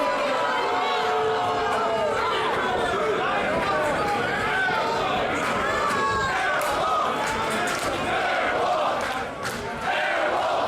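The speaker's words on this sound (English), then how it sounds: "Crowd encouraging Airwolf to somehow get out of this predicament." A wrestling crowd cheers on Air Wolf during a triple-threat match against DJZ and Shane Strickland, a dense, steady roar of shouting and chanting voices that holds loud throughout with no break.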